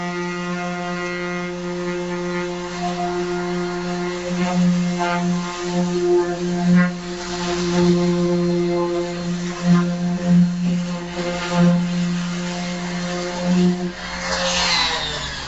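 A palm sander runs in a boat-building shop during a custom trimaran build, a steady droning hum with strong tonal harmonics and uneven swells as it works the surface, close by.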